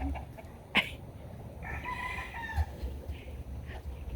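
Backyard rooster crowing among a farm flock, one drawn-out crow rising out of steady low background noise, fairly faint and distant, with a short sharp call just before it.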